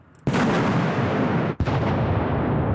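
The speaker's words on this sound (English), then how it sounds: "The force of the explosion sends the steel balls through our soldier and into the rock beyond" A tin packed with ball bearings and gunpowder, set at bounding-mine height, detonates with a sudden loud blast that roars on, then a second sharp crack follows and rumbles away.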